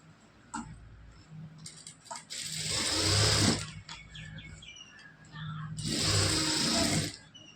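Sewing machine stitching the shoulder seam of a blouse, two loud close bursts of fast whirring stitching separated by a quieter gap with faint handling sounds.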